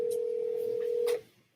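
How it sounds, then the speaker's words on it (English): An outgoing phone call: one steady electronic ringback tone with faint clicks, holding evenly for about a second before cutting off abruptly, close and clear with no talk. "That's me calling your phone right now."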